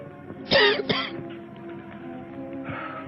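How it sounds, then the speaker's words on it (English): Two quick, harsh coughs close by, followed by a quieter stretch of low background noise. "Now cough again."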